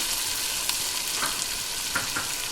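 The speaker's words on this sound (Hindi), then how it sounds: "5 मिनट हो गए गोश्त को भूनते हुए" Beef for haleem frying in oil in a pot, a steady close sizzle with a few soft crackles and pops, no voices.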